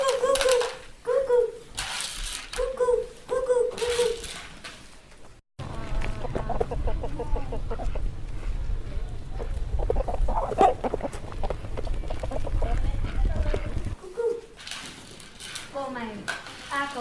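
Chickens being fed at a Hmong rural home, with clucking hens, clattering feed and dish sounds, and a long stretch of scraping and rustling. A person speaks over parts of it.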